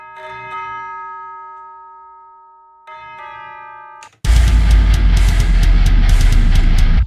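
A bell-like tone rings out and decays in a home song recording, struck twice with sustained ringing before loud distorted metal guitar and drums crash in and take over.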